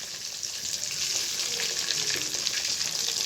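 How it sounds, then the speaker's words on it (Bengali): Papda fish frying in oil in a wok, a steady close sizzle with crackling pops running continuously, moderately loud and unaccompanied by voices. "একটা মাছ ভেজে নিয়েছি, তারপরে আবার একটা মাছ কড়াতে দিয়েছি।"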